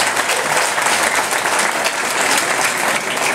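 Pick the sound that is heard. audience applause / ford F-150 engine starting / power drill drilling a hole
audience applause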